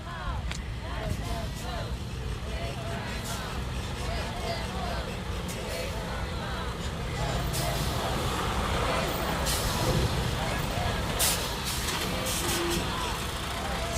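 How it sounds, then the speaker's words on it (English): An Amazon delivery truck pulls in at an Amazon facility in New Jersey during a blockade, its air brakes hissing over a steady engine rumble while a crowd murmurs and talks nearby. "And it is an Amazon truck,"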